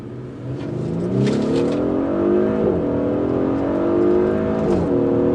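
A 2017 Audi SQ5 with a 345PS V6 petrol engine accelerates from 0 to 60, its engine note climbing steadily through the gears with rising pitch and brief dips at each shift, loud and close inside the car.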